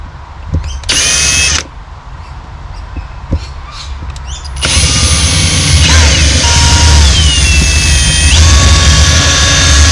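A power drill drills out a rivet on an engine air intake snorkel, with loud close bursts of whining motor: a short burst, a pause with small clicks, then a long sustained run.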